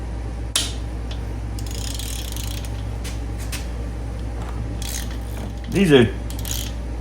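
Ratchet loosening a 1/2 inch bolt on the cam gear of a Harley-Davidson M8 motorcycle engine, a short burst of clicking pawl ticks near the end after a sharp metallic tap, close up, with brief speech in the clip.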